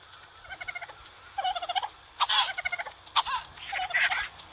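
In the mobile version of the survival game Ark Survival Evolved, a fowl-like creature gives repeated bursts of rapid, warbling clucks and gobbles, several short calls in quick succession, close and clear with no talking over them.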